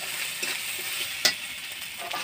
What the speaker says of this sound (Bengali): জিরা গুঁড়া দিয়ে আবার একটু কষিয়ে নেব।